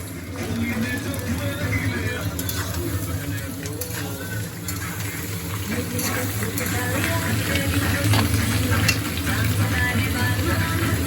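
Onions and red chillies fry in a pan for a Bihari Holi dish, giving a steady low sizzle with occasional stirring clatter, heard close under ongoing conversation.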